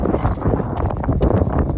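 Horse hooves clip-clop on a mountain trail ride near Spruce Mountain in Larkspur, Colorado, an uneven run of close, loud hoofbeats under gusty wind noise on the microphone.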